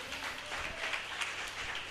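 A church congregation at a JMCIM worship service breaks into applause, a dense, even patter of many hands clapping at moderate distance for about two seconds, with no one speaking.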